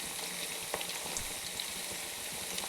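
Jackfruit chips fry in hot oil, a dense, even crackling sizzle heard close up and continuing without a break, with no voices.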